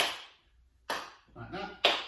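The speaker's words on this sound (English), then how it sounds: "can we clap under our legs" Hands clap under the legs during a children's exercise class held over a video call: three sharp claps about a second apart, with a voice talking between them.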